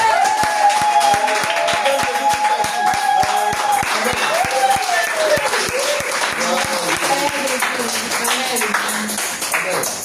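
Church congregation applauding during a worship service, sustained clapping from a crowd with voices calling out and singing over it throughout.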